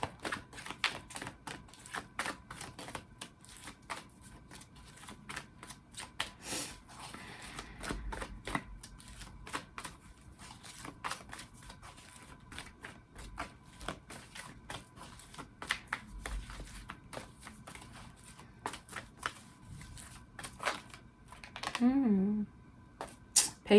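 A deck of energy oracle cards is shuffled repeatedly in a quiet room. The card riffles and taps are soft and irregular, continue for a long stretch and are broken by brief pauses. Near the end a voice speaks briefly.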